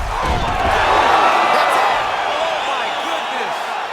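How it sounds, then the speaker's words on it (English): A UFC arena crowd roars steadily after a fight-ending shot, a dense, continuous wall of cheering and shouting that holds loud throughout, with commentary voices talking over it. "crowd loving it"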